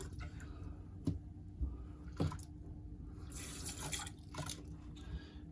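Tap water runs into a sink to rinse a morning coffee cup in a tiny house kitchen, a steady close trickle broken by a few clunks of the cup and a brighter gush near the end.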